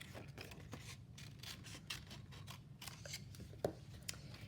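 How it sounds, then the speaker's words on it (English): Scissors snip repeatedly through cardstock while trimming around a die-cut shape, a close, quiet series of crisp cuts in an uneven rhythm. "So I take my scissors and I just kind of cut around him a little bit."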